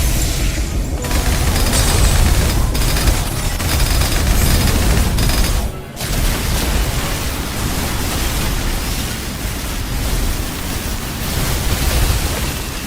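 Dense, continuous automatic gunfire in the video game Snowbreak, a loud wash of rapid shots and explosions that briefly drops out near the middle before resuming, with no talk over it.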